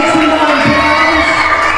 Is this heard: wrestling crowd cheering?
yes